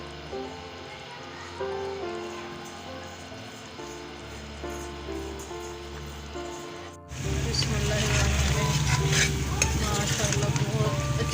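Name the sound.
potatoes sizzling while being stirred and fried in a pan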